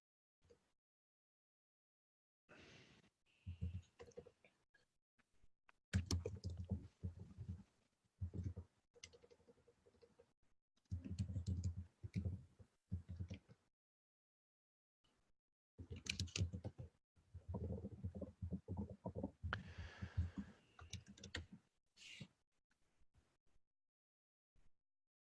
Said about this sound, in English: I'm typing one.